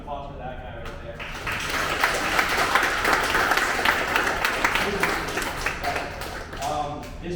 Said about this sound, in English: Everyone give a round of applause for that guy right there.